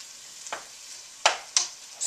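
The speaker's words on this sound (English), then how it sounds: "So now my onions are getting golden brown, and I can see through them a little bit." Onions frying in a hot pan until golden and translucent, a faint steady sizzle broken by a few sharper crackling bursts and stirring scrapes, no voices.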